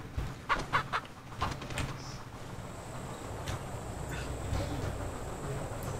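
Chickens in the horror video game Pacify cluck in short bursts near the start, then fade under a low, steady background hum.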